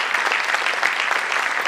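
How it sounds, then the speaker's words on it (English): An audience claps together in a dense, steady round of applause, loud and continuous with no voices standing out. "Can we have a round of applause for him?"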